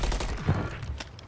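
Gunfire in the video game Warzone 3, a rapid fusillade of shots rattling in a dense burst over about a second, steady and fairly loud.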